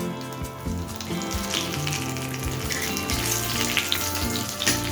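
Whole cumin, two dried red chillies, three cracked green cardamoms, a cinnamon stick and three bay leaves sizzle in hot oil for dhokar dalna, a steady close crackle under a background of music.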